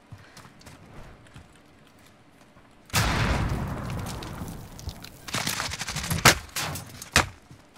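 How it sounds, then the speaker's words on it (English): Gunfire in a battle royale shooter video game, scattered sharp shots and bursts growing louder and denser after a quiet start, mixed with hoof-like clatter, with no talk. "I'm being shot from there"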